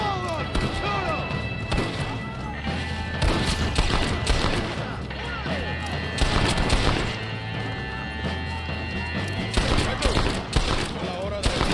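Dense gunfire from a chaotic street battle in Red Dead Redemption, with rapid overlapping shots and bursts loud throughout, mixed with shouting voices and crashes.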